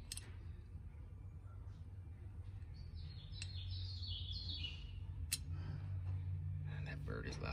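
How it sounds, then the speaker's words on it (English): Outdoors, a bird chirps in a short run of high tweets partway through, fairly faint, under a steady low background rumble with occasional clicks. "And that bird is loud."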